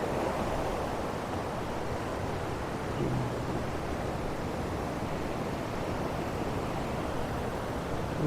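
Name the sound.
Sunnapugedda waterfall flowing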